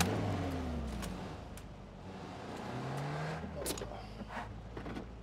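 Car engine in a PUBG console match, revving and whining in two rising and falling sweeps, fairly faint beneath other game noise.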